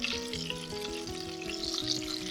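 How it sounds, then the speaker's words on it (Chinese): Duck breast searing in a dry pan over high heat with black pepper, a steady close sizzle running throughout, with tonal hum and small crackles layered over the frying hiss. "开大火，听到有滋滋的声音的时候，调到中火"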